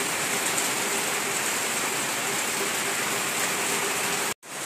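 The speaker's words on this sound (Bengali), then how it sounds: "দেখো এখন বৃষ্টি হচ্ছে, জল পড়ছে।" Rain pouring down during the monsoon, with rainwater running off and falling steadily, a dense, loud, continuous rush that cuts out briefly near the end.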